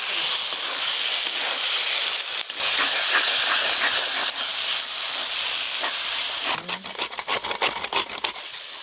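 Ginger and garlic frying in hot oil in a home kitchen pan make a loud, continuous bright sizzle and hiss, broken by a brief gap and then choppy, pulsing bursts near the end.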